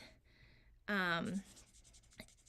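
A Stampin' Write marker's fine tip scratches across paper in short, quiet strokes, with a brief spoken voice interrupting partway through.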